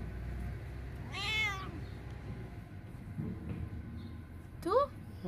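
A stray kitten in a garden gives a clear rising-falling meow, then a shorter, sharper meow near the end, heard over a low, steady outdoor background.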